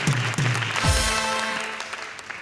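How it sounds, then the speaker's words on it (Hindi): Studio audience applause on a talk show, a burst of many hands clapping that swells quickly and then fades steadily over a couple of seconds, with a brief voice near the start. "भाई जोर से तालियां बजाओ"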